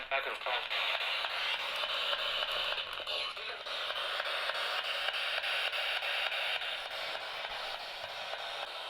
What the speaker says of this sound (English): spirit box uses radio frequency sweeps to generate white noise.